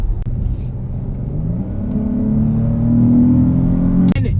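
A 2019 Dodge Charger SXT AWD with its V6 pulls hard under acceleration, the engine note rising steadily in pitch and loudness as a continuous close, smooth drone that ends in a brief sharp click.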